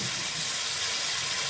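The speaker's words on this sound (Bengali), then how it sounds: "অল্প একটুখানি আমি জল দিয়ে দিলাম।" Water poured steadily into a spice mixture in a cooking pan, a continuous close hissing splash with no pause.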